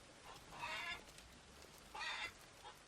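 Chickens clucking on a farm in Farmer's Dynasty, two short bursts of fairly faint, raspy clucks a little over a second apart against quiet ambient background.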